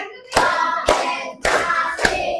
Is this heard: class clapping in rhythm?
yes